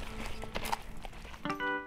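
A horse named Hershey walking, its hooves clip-clopping in a few irregular thuds at close range, short and moderately quiet.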